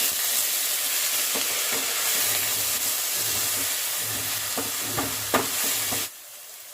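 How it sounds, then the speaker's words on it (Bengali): Ginger, garlic and green chili paste fries with spring onion in hot oil, giving a loud, continuous hissing sizzle with occasional stirring clicks, then cutting off abruptly near the end. "এবার এর মধ্যে দিয়ে দিচ্ছি আদা, রসুন আর কাঁচা লঙ্কা বাটা। আবারও খানিকক্ষণ ভেজে নিচ্ছি।"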